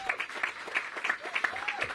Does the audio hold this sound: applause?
yes